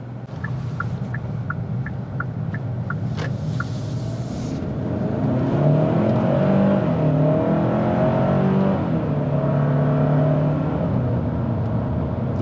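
A 2022 Hyundai Santa Cruz SEL Premium AWD pickup accelerates steadily, its engine note climbing and dropping through gear changes, loud and close, with no talking over it.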